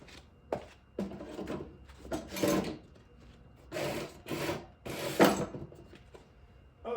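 Scraping, rubbing metal-on-wood sounds as an axle is worked out of a 1958 Triumph TR3A, coming in several separate bursts of grinding friction with short pauses between them, close by and moderately loud.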